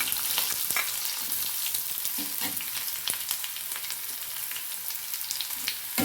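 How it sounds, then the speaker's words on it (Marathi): Onion with curry leaves sautéing in a hot pan, a steady close sizzle and crackle with occasional stirring scrapes, no voices. "कांदा छान परतून घ्यायचा आहे आपल्याला पाहू शकता तुम्ही"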